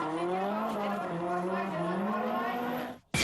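A drift car gliding into a corner at a D1SL street-legal drift event at Ebisu, tires howling in a long sustained squeal with the engine note rising and falling, an announcer talking over it.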